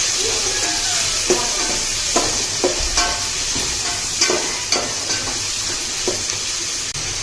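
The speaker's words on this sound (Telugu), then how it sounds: "బాగా కొంచెం ఎర్రగా వచ్చేదాకా ఫ్రై చేసుకోవాలి" Oil sizzles steadily in a pan as seasoning with salt is fried until reddish, with a spoon scraping and stirring in several sharp clinks and scrapes over the constant hiss, close up.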